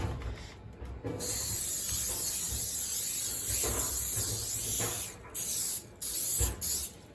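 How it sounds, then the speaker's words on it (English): A cooking spray hisses in long continuous bursts close by, with short pauses between sprays near the end. "We're gonna spray the pan."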